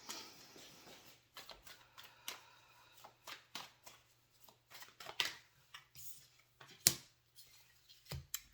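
Tarot cards shuffled and drawn for a Leo reading, a run of soft, quick riffling and flicking sounds in irregular bursts, close and fairly quiet, with no talking.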